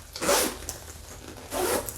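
A zipper on a Rebecca Minkoff bag is pulled closed in two quick rasping strokes, close and clear, with no talking.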